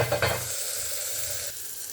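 Ridge gourd and tomato pieces fry in oil for a ridge gourd chutney, a steady soft sizzle with a louder stirring burst near the start, then an even crackle to the end.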